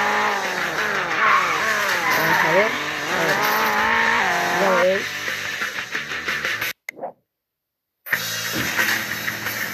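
A car in a video game drifting and skidding, with squealing tires and wavering engine tones over the first five seconds, then a brief dropout into silence; someone talks over much of it.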